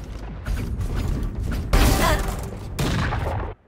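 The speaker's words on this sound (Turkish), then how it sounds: "Dolduruyorum." A weapon reloads in Valorant, with clicking, rattling mechanical handling sounds and a brief louder metallic burst in the middle, close and clear against low game ambience.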